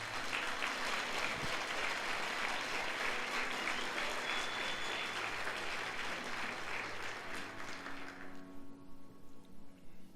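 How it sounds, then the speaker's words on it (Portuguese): Sustained congregation applause fills a Sunday church service for about eight seconds, dense and steady, then thins into scattered claps as it fades out. "Então dá um aplauso a ele."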